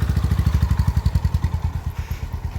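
A CB 350 or Himalayan motorcycle pulls away gently in first gear, its engine thumping in a steady, even pulse, close and fairly loud with no voices.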